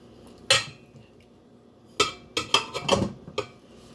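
Cream cheese going into a bowl for a no-bake peanut butter pie: a few clinks and scrapes of a utensil against the dish, one sharp knock then a cluster of quick taps, close and moderately loud.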